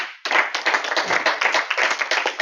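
An audience at a Toastmasters club session bursts into applause, dense steady hand clapping starting abruptly and continuing at full strength, close and lively.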